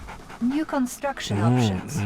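Attack dog unit from Red Alert 2 panting in quick, breathy bursts with some whimpering tones, fairly close and loud, while a voice talks over it.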